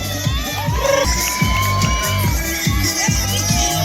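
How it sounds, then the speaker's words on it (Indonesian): Crowd at a school sports match between vocational high school teams cheers and shouts with rising excitement, children's whoops mixed in, while a rhythmic thumping beat pulses steadily underneath. "Aplaus."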